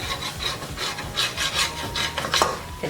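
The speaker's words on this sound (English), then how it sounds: "continue to scrape up the goop on the bottom" A utensil scrapes fond and flour-thickened gravy off the bottom of a skillet with repeated close rasping strokes in an uneven rhythm, with no talk.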